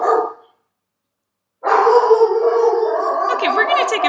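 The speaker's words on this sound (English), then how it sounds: "we're going to take a break while I get my dog to calm down" A pet dog barks and howls loudly and close by, a short burst followed by a pause and then a sustained howling run with yips.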